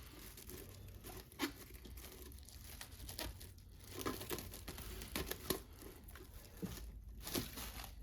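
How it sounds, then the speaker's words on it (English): Plastic wrap is pulled and crinkled to cover something in a kitchen, giving quiet, uneven crackles and sharper rustling bursts at close range. "we're going to cover the space here with plastic wrap"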